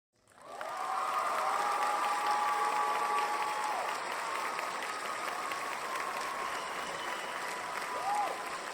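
An audience gives sustained applause for John Van Auken at a spiritual-themed lecture, a dense, even wash of clapping that swells quickly and holds steady to the end, with a faint tonal hum running beneath.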